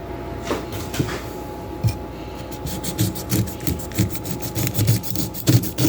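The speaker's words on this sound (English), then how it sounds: "you can just definitely just scrape it off with your knife" A knife scrapes the skin and eyes off a sweet pineapple in a series of short, close, rasping strokes that quicken toward the end, with no talking.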